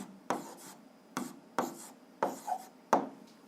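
Chalk or pen strokes on a board as a physics pressure-problem solution is written out, heard as five sharp taps and scratches in an uneven rhythm, close and distinct with no talk.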